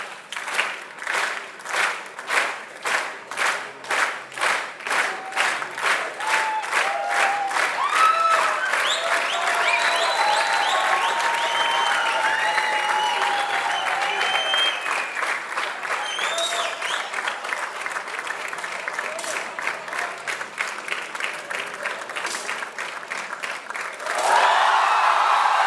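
Crowd at a 10m air rifle shooting World Cup final in Bhopal, India claps and cheers loudly; sustained applause with rhythmic clapping early, rising shouts through the middle, continuing steadily throughout.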